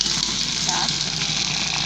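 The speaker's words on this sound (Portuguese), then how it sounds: "E vamos colocar a água" Water poured into a pan of hot caramel and pineapple slices hisses and gushes steadily for about two seconds, loud and broadband, with possible faint talk underneath.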